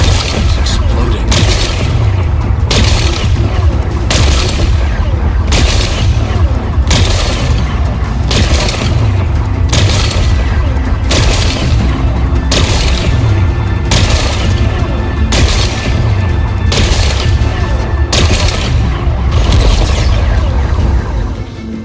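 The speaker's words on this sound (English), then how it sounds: "It's exploding." Explosions blast away rocks in the video game Horizon Forbidden West. A dense, loud roar continues throughout, punctuated by repeated heavy bursts at a steady pace roughly every second, without pause.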